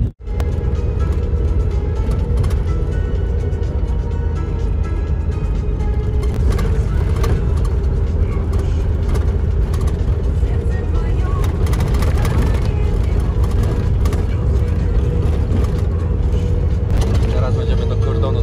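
Car interior on the road toward the Transnistria border checkpoint, with a constant engine and tyre drone and a low rumble throughout, and people chatting over the noise.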